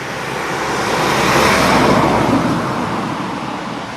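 Car traffic passing on a roadside, a loud rushing swell of a vehicle going by close, rising and then fading over a few seconds.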